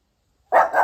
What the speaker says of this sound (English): I hear the doggy.